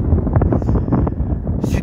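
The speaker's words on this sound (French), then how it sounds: "Il y a du vent quand même." Strong southwest wind buffets the microphone with low rumbling gusts, close and loud, with a brief hiss near the end and a voice faintly underneath.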